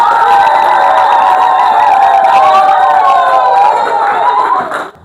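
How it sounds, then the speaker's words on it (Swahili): A church congregation at Nyehunge parish cheers loudly, with high trilling ululation and shouts ringing together over scattered clapping in an enclosed hall, fading out at the end. "Ninaomba waumini sasa tushangilie kwa makofi."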